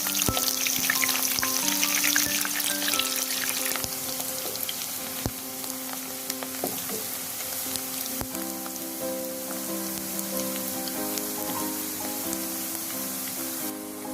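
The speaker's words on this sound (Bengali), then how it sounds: "এবার দিয়ে দিচ্ছি পেঁয়াজ। পেঁয়াজগুলো সোনালি করে ভেজে নেব।" Loud, steady sizzling of onions frying in hot oil, with occasional sharp pops and a faint melodic tone running underneath.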